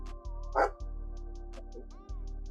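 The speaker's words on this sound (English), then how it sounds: "Dog's barking a little bit." A dog barks nearby in short, sharp yips, with one louder bark standing out over a steady low hum of background noise.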